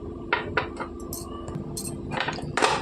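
Metal pans and utensils clank and clink on a stovetop in a home kitchen while cucumber chutney is prepared, several sharp separate knocks and rattles close by, no talk.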